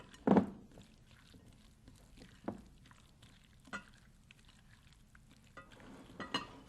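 Quiet stirring of a blueberry cobbler mixture in a bowl, with soft scraping and occasional light knocks of the utensil against the side, scattered and faint.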